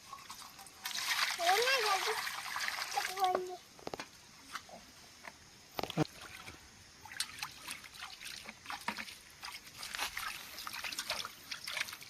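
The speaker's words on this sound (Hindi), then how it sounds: "तो हम लोग अभी खुखड़ी धो लेती हूँ।" Water splashes and trickles while wild forest mushrooms (khukhdi) are washed outdoors at a rocky stream, loud sloshing early then lighter intermittent dribbles, with voices and children playing in water nearby.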